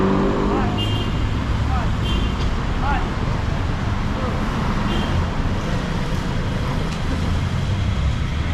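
Downtown Iloilo City street traffic, with a steady wash of cars, buses and trucks passing close by, plus occasional horn-like tones, while people talk over it throughout.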